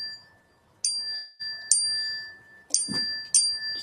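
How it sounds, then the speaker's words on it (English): A mindfulness bell rings four times at irregular intervals, each clear, high metallic strike sustaining and fading before the next, alone in a quiet room. "Mindfulness bell, it's very insistent."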